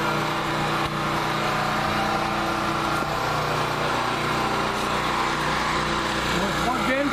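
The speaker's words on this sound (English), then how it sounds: "once again we got the generator going" A portable gasoline generator runs steadily after Storm Sandy, its loud, continuous engine drone filling the whole stretch, with a few faint voices and small noises riding over it.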